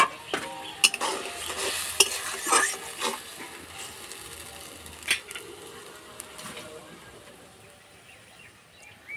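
Water and salt go into fried spice paste in a pan while cooking an omelette curry, giving a soft, steady sizzle with stirring and scraping and a few light clinks, low and continuous.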